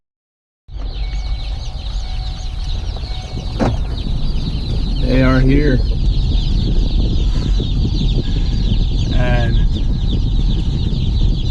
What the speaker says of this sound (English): This is a very peeping group of chickens.